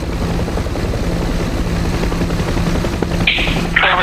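A Huey helicopter in the combat flight simulator DCS World thumps loud and continuously with rapid rotor chop and a dense engine roar, joined near the end by brief bursts that sound like gunfire.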